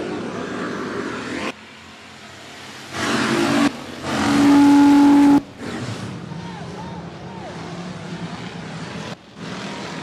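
Race cars circling 105 Speedway during a regular race program, engines droning and swelling as they pass, with loud bursts of revving nearby and a crowd and announcer-like voices mixed underneath.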